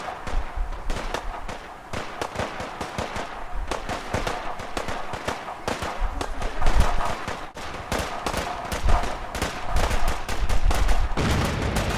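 Raider attack in Fallout 4: rapid, dense gunfire crackles almost nonstop, mixed with heavier booming artillery blasts, loud and close, with bursts overlapping throughout.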